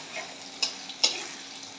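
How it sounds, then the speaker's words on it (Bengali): Onions and green chilies frying in hot oil, giving a steady soft sizzle with two brief sharp crackles or stirring clicks, close by and with no voices. "তেলটা গরম হয়ে গেছে, এখন পেঁয়াজ আর কাঁচামরিচ দিয়ে দিব তেলে"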